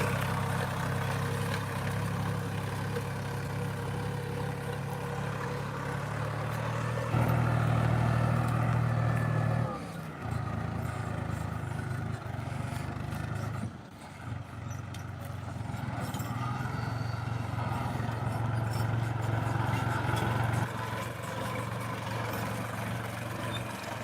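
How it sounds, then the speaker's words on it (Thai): New Holland TT3.50 and Kubota L5018 tractors plowing a rain-soaked rice field at night, their steady diesel engines droning continuously near and loud, with slight shifts in load and pitch as they work. "มาดูบรรยากาศครับ การทำงาน ของรถไถครับ ตอนกลางคืนครับ"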